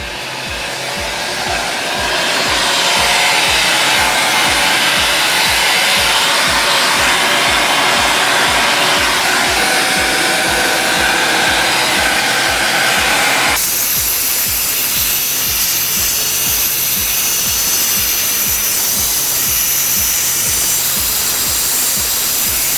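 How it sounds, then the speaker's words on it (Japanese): A vacuum cleaner runs steadily on an air conditioner's heat exchanger during a cleaning, a loud continuous roar with a sudden shift in tone partway through, and no talking. "熱交換の部分、傷つけないように優しく掃除機をかけます。"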